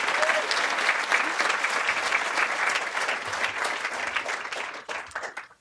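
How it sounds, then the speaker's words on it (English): A banquet audience at a student leadership awards event gives a warm round of applause, dense and steady clapping from many hands that thins and tapers off toward the end. "we're going to do one more round of applause for Brent for all of his awesome work"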